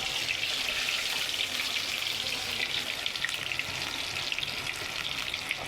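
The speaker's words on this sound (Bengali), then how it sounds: "আজকে হবে মুরগি ফ্রাই করব। কড়াইয়ের মধ্যে তেল দিয়ে দিলাম।" Chicken pieces frying in oil in a wok, a dense, even hiss and spatter that runs continuously at close range with no talking.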